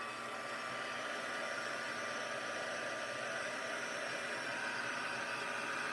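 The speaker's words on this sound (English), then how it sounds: "I forgot to do the heat tool. Let me do that real quick." A crafting heat tool blows hot air in a constant, even, close whir with no breaks, loud and unaccompanied by any voice.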